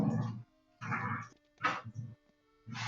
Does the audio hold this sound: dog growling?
yes